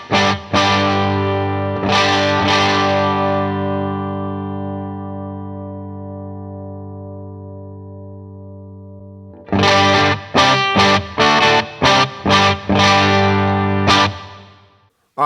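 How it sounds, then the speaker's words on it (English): Guitar amp pushed into power tube overdrive with speaker breakup emulation on a Headrush pedalboard: a long sustained distorted chord ringing out and slowly decaying, then a run of short choppy distorted chord stabs, no talking. "now we're getting some power tube overdrive just by cranking up the master volume of the amp"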